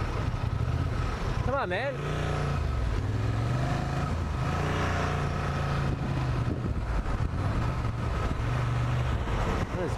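A Honda Transalp motorcycle engine drones and pulls as it gains speed, with steady wind rush and road roar up close, and someone briefly speaks over it.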